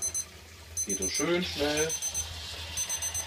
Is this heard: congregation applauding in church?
no